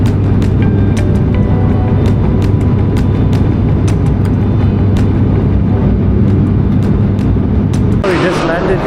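Passenger airplane cabin on a short flight of about 45 minutes, with a constant low engine drone and hum filling the background and sporadic faint clicks and cabin noises.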